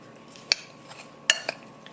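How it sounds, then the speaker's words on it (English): Apples are tossed with cinnamon and sugar in a bowl, giving quiet scraping of a utensil and a few sharp clinks against the bowl over a soft background, with no speech. "So we're just going to mix all this stuff together"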